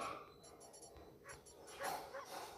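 A detection dog barks in a border patrol video game: a few quick, faint yips and barks over soft game ambience.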